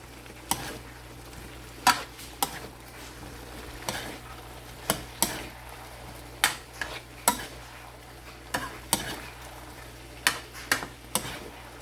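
Tofu and chayote stirred together in a pan, with frequent irregular spatula taps and scrapes against the metal over faint sizzling and a low steady hum, close by.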